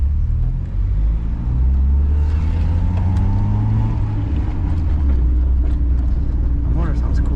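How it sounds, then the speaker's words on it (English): A Ford EF sedan car motor hums and rumbles steadily throughout, with a low droning tone and occasional rising whine, close and continuous. "The motor sounds cool."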